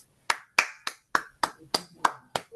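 A church congregation claps in welcome, eight sharp, evenly spaced claps landing together in a brisk, steady rhythm, close and clear with quiet between strikes.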